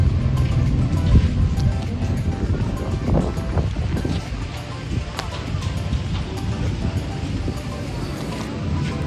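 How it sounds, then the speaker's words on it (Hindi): Outdoor ambience at Triveni Ghat on the river in Rishikesh, with steady rushing water and wind buffeting the microphone, plus scattered clatter and distant crowd noise under faint voices. "तो अभी हम लोग आए यहाँ पे त्रिवेणी घाट"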